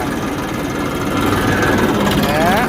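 A small engine runs close by with a rough, knocking chug and a heavy vibrating rumble, steady and loud, while people talk over it.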